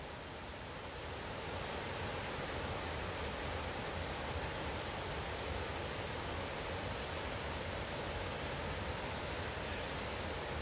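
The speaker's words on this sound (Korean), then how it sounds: "해인사 소리길의 계곡의 물소리입니다." A valley stream on the Haeinsa Sori-gil trail rushes in a constant broad, hissing wash of flowing water, steady and fairly soft, with no voices.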